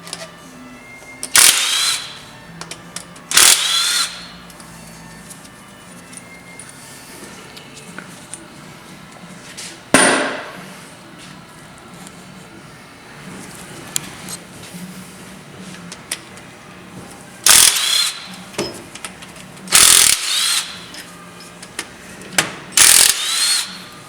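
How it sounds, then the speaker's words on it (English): A ratchet wrench loosens bolts on the oil cooler cover of a 2010 Volvo D13 truck engine, with close, repeated bursts of clicking pawl ratcheting separated by quieter pauses and faint handling noises. "pull these bolts out of this cover"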